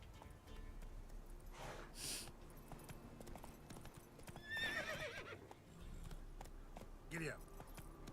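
In The Witcher video game, a horse's hooves clip-clop steadily throughout, broken by a loud neigh and a snorting whinny near the middle and end.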